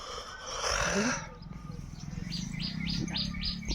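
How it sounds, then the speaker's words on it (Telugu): Several short, high chirps repeat in a quick regular series after a burst of rustling noise, with a low rumble underneath. "పిట్ట"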